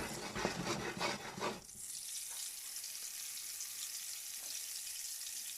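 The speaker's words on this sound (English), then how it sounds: "bringing that pan up to the heat now guys, melting that butter in" Butter melts in a hot pan, giving a bright broadband sizzle; louder clatter and stirring in the first couple of seconds, then a steady, even hiss.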